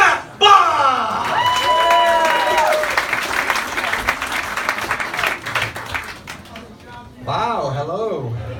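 Live comedy festival crowd in Oscoda breaks into loud, sustained applause and cheering as a comedian is introduced, the dense clapping wash running for several seconds, tapering, then swelling again briefly near the end, with voices calling out through it.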